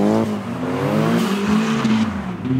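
A drift car on a drifting track revs hard and accelerates, its loud engine note climbing and wavering continuously up close, with a possible thin tire squeal mixed in.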